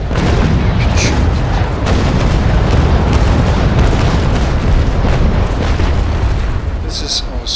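Ship cannons firing in the naval combat game Naval Action, a loud, continuous rolling broadside of booming blasts that fills the whole stretch without pause.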